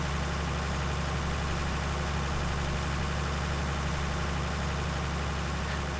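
A tractor engine planting sorghum runs with a steady, loud, low rumble and constant vibration throughout, with no change in rhythm.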